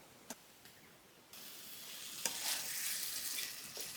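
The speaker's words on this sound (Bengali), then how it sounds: "আলু আর মাছটারে ভালোভাবে কষাই নিয়ে হবে" Fish and potato pieces are stir-fried in a pan for a thin fish curry, giving a quiet, close frying hiss that swells partway through, with a few light spoon taps and no voices.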